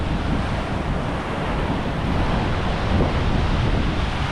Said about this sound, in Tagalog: Parang may kasamang demonyo yung alon pag humampas.